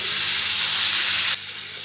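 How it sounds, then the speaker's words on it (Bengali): Cauliflower frying in hot ghee with a little butter, a dense steady sizzle close up that drops slightly in level partway through. "এবার গরম হয়ে গেলে ফুলকপিটা ভালো করে ভেজে নেব। ফুলকপিটা ভেজে নিচ্ছি।"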